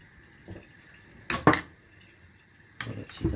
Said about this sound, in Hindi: और अब इसको हम फेंट देंगे।